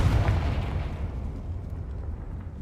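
Confringo fire spell explosion in Hogwarts Legacy, a single deep booming blast at the start followed by a rumbling, fading decay, loud and close with no talking.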